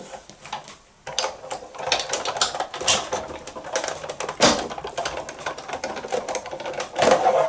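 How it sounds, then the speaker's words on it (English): Paper runs through a die cutting machine with a continuous clattering, ratcheting mechanical grind and uneven rhythmic clicks, close and fairly loud. "you can just run that through your die cutting machine"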